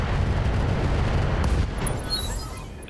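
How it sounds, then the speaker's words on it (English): Ammunition cooks off in the RogueTech mod of the BattleTech video game: a loud, sustained, crackling explosion roar that fades slightly toward the end. "Ammo explosion."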